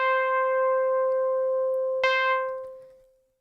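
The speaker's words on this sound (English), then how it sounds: "And then you combine them together, it sounds like this." Two FM operators combined into a chiptune synth tone, a sustained bright buzzy note with slight detune shimmer, a brief click midway, then a tapering fade to silence.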